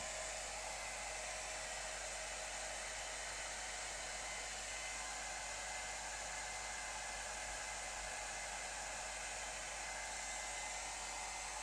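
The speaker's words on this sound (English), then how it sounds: "I'm gonna get the hairdryer on it" A hair dryer blows steadily at close range on wet acrylic paint, a constant whooshing hiss with no breaks and no voices.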